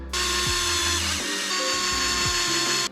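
A power tool drives skid plate screws back into an Arrma Gorgon RC truck, giving one steady, close whirring run of about three seconds with faint ratcheting clicks and no talk.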